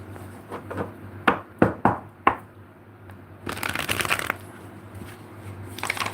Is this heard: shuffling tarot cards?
yes